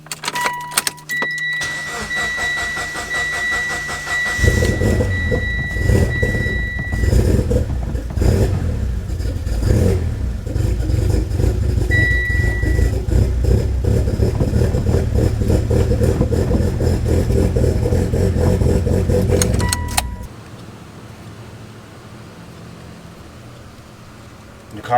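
A Mitsubishi Evo X runs right after a fuel kit and flex fuel install, starting up and then holding a loud, rough, steady roar close by for about fifteen seconds before cutting off abruptly.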